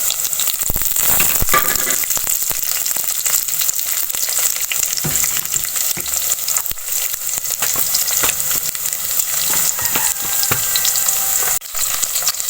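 Onions and green chillies fry loudly in a pan, a dense, continuous sizzle with frequent crackles and stirring scrapes throughout, no voices over it.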